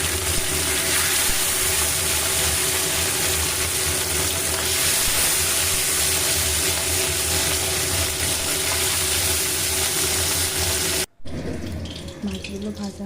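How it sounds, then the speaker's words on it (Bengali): Small bata fish frying in hot oil in a kadai: a loud, steady sizzling hiss close by that fills almost the whole clip, then cuts out abruptly, leaving quieter kitchen clatter and faint sizzle. "মাছগুলো আস্তে আস্তে আমি ভেজে নেব।"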